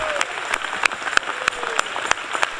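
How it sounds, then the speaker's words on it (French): A congregation at a bilingual English-French church service claps loudly and steadily. The close, rhythmic hand claps keep going under a brief voice. "give the Lord a big hand"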